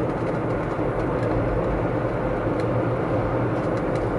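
A 1995 Mercedes-Benz W124 station wagon engine running steadily, a loud, continuous low rumble heard close up for several seconds with no talking.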